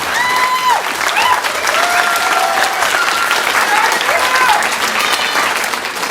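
An audience at a public budget forum claps steadily and loudly, with a continuous wash of applause and a few voices cheering faintly underneath.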